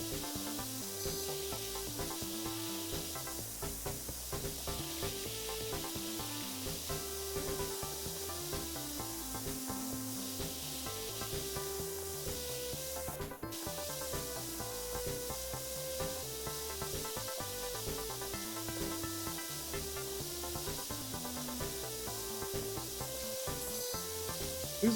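A pressure washer sprays steadily in the video game PowerWash Simulator, a continuous hiss over a low hum and game music, with no talk.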